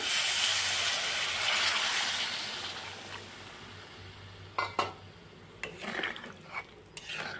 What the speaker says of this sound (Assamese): পানী দি আৰু অলপ লৰাই দিলোঁ।